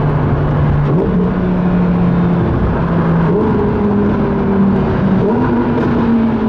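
A Ferrari SF90 engine revs hard and loud, its pitch climbing and dropping through several gear changes, with a booming, echoing quality inside a tunnel.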